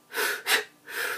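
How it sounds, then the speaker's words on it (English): Forceful breaths drawn in and pushed out, three strong airy pulses in quick succession with short gaps, close and clear, no talking. "breathing the energy in and out 3 times"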